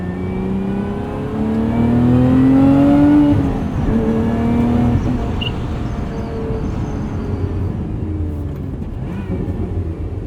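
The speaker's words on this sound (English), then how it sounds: "Let's go into track mode. Car gets a little bit louder." A 2024 Lotus Emira sports car with a 6-speed manual, in track mode, revs and climbs in pitch, then settles into a loud, throaty rumble as it drives on, close and continuous without talk.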